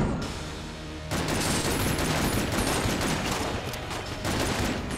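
Plague pistol firing in Enter the Gungeon, a loud, dense burst of rapid shots that starts after a brief quieter lead-in and keeps going steadily for several seconds with no talking.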